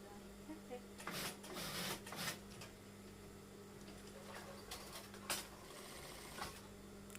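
A sewing machine hums faintly and steadily while stitching along embroidery on a Kasumedangan garment, its low whir running underneath a person talking nearby, with a few louder clacks and rustles.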